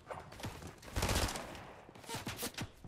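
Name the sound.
gunfire in a video game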